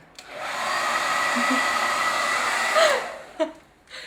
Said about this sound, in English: I wouldn't put my blow dryer on the hottest setting